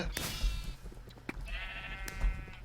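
Sheep in the game Minecraft bleat twice, two loud wavering calls close by, one at the start and another a second later, over faint background noise.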